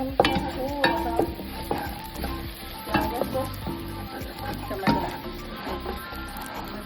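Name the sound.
cumin seeds sizzling in hot oil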